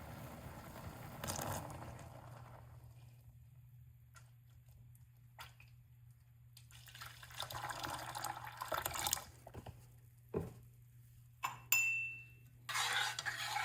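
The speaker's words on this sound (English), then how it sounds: "So I'm going to start pouring some milk in here." Milk is poured into a cup of rooibos tea with a soft, faint liquid trickle over a low steady hum, followed by a few light clinks and small splashes.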